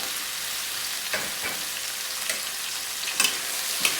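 Garlic sautéing in a pan for spicy sardines, a constant bright close sizzle with a few soft scrapes and clicks of a spatula, no voices.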